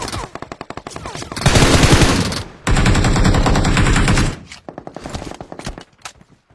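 Rapid automatic gunfire in a video game, with bursts of machine-gun fire opening the clip, then two long sustained volleys, then more scattered shots trailing off. The shots are loud and close, with faint talk underneath.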